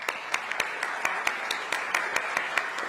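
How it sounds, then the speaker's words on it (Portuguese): Applause from the audience at a CBF event, sending off the guest BAP: steady, crowd-wide clapping with sharp individual claps standing out over a dense wash of hands. "Nos despedimos, então, do BAP com aplausos."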